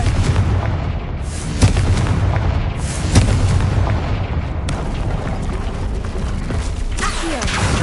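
The Confringo explosive spell in Hogwarts Legacy, a loud, dense run of booming blasts and rumbling impacts layered over one another, with sharp bangs standing out near the middle and end.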